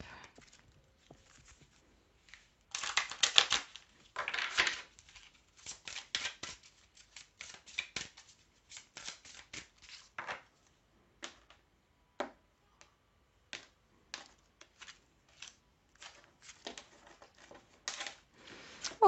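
Tarot cards being shuffled by hand, a long run of soft riffling flutters and quick papery slaps, fairly close and quiet, with no talking.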